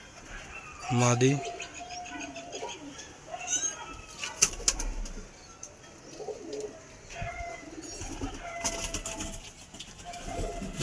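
Pigeons in a loft coo softly, with brief bursts of wing flapping and fluttering, while someone speaks nearby and other birds call in the background.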